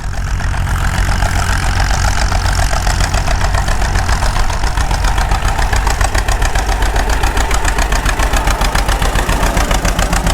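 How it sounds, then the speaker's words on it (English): A 1948 John Deere B tractor engine runs close and loud in an open field, with a rapid, even putt-putt pulse that holds steady throughout, no voices heard. "'48 John Deere B."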